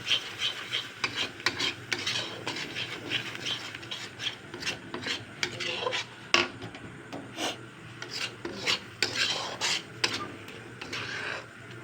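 Ground spices (cumin, coriander, turmeric and sabji masala) fry in a pan while a utensil scrapes and stirs them in a steady, close rhythm of short rasping strokes that runs continuously with no voices.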